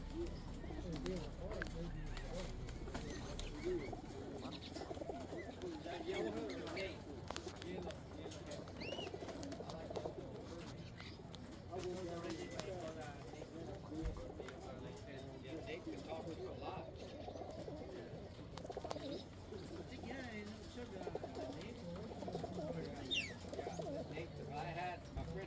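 Birmingham roller muff pigeons coo softly and steadily among other birds, a low murmuring backdrop with people talking over it throughout.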